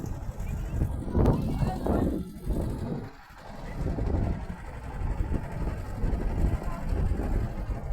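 A boat moving along the Jamuna river gives a steady low engine rumble and broad wash of water and wind noise, fairly constant throughout, with voices talking over it.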